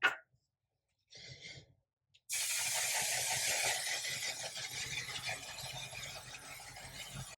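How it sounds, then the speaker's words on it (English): A short hiss, a pause, then a long steady aerosol makeup setting spray hissing for several seconds, close and fairly loud. "finish with some setting spray"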